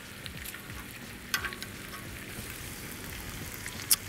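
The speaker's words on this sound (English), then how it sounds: "got the bacon and the sausage down first" Bacon and sausage frying on an outdoor griddle over low to medium heat, a soft, quiet sizzle and crackle with a couple of brief louder pops, no voices.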